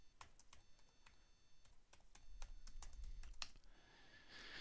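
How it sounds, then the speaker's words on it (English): A password is typed on a computer keyboard: soft, irregular clicking keystrokes in a quiet room, close and faint, ending with a brief rustle. "So my Uppsala University password, I have to type it in now."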